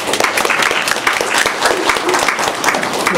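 Steady, dense applause fills a council rules committee meeting room, many hands clapping at once at a loud, even level with faint voices mixed in.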